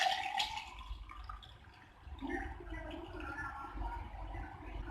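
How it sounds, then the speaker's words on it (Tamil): Spiced banana leaf buttermilk with coriander leaves is poured into a glass, making a soft, close liquid gurgle and splash that swells partway through. "இப்போ நம்ம ரெடி பண்ண மோரை வந்துட்டு நம்ம ஒரு கிளாஸில் ஊற்றிடலாம்"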